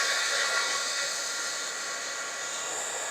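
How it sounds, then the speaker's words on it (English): Heat tool for card making running as it warms up, a steady breathy blowing hiss with a whine, close and constant throughout with no talk. "My heat tool has not been used today, so I'm going to give it a minute to heat up"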